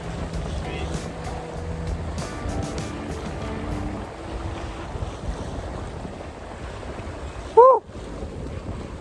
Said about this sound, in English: It's a nice wind to bring us home.